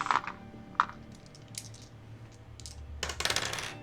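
Several dice rolled for a tabletop roleplaying game, clattering in a sharp burst of rattling hits near the end after a few earlier isolated clicks, close and fairly loud over quiet room noise.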